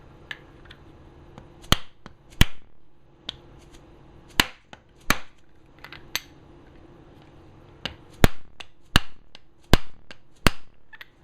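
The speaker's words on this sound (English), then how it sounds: "catch the inside race, and slowly start driving this on with a dead blow hammer" Dead blow hammer blows driving a bearing onto a shaft through an aluminum piece on the inside race, during Delta 22-540 planer reassembly: about a dozen sharp, close knocks at irregular intervals, some in quick pairs, with quiet handling between.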